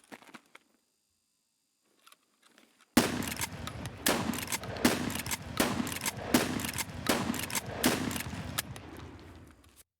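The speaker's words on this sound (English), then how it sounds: "The first weapon we have today is the MP133 shotgun. It is a pump action shotgun" An MP133 pump-action shotgun in Escape From Tarkov fires about eight sharp, loud blasts in an even rhythm after a quiet opening, each shot trailing into a short echo.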